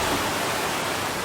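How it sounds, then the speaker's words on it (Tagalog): Heavy rain has sent floodwater rushing through city streets in Cagayan de Oro City, a steady, loud, broadband roar of churning water that runs unbroken through the short stretch with no voices. "Rumagasa ang baha sa Cagayan de Oro City dahil sa malakas na ulan."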